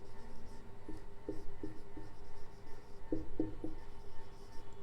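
Chalk or marker scratching across a board during a physics lesson on concave mirror ray rules, coming in short strokes and brief bursts with pauses between them, quiet and close, with no talking.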